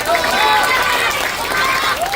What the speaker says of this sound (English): Hand clap, that's right. Senator Sandra Kano, keep clapping, don't stop.